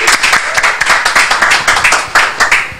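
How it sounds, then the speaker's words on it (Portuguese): Close, loud clapping from a concert audience at the Sala Baden Powell honoring a composer, a dense, fairly even patter of hands with a few stronger bursts, no voices over it. "Então é um ídolo nacional que merece nossos aplausos"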